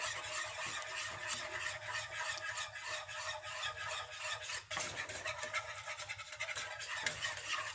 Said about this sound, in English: You might be not able to hear me nicely, so that because I'm stirring the roux.